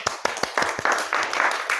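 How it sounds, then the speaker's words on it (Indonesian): A classroom audience, teachers in a school setting, claps hands in a short burst of quick, scattered applause that stays close and fairly loud before settling. "Tepuk tangan."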